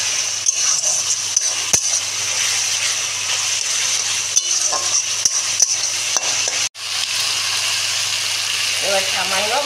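Anchovy curry with chili powder being stirred in a pan, a steady broadband sizzle with occasional scrapes and clinks of the spoon, fairly close; a voice speaks briefly near the end.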